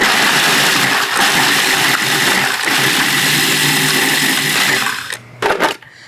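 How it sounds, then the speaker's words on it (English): A food processor whirs loudly and continuously as it grinds vanilla wafers into fine crumbs, then winds down and stops with a few short rattling pulses near the end. "This is made out of vanilla wafers. And you can grind these up in your food processor. Get them very fine."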